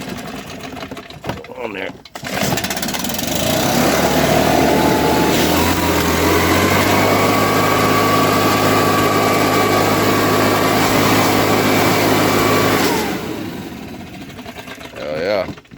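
A choke-started small engine fires up after a couple of seconds of handling noise, then runs at a steady, buzzing idle for about ten seconds before shutting down. Someone talks briefly over it.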